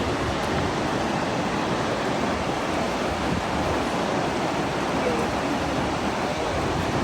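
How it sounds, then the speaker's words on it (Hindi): A waterfall in Iceland roars from close by as a steady, dense rush of falling water that fills the clip without a break, loud and unchanging, with no talk. "we are getting close to the waterfall"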